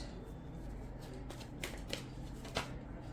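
Tarot cards are shuffled by hand, soft riffling and a few crisp card slaps, close but quiet, with no voice over them.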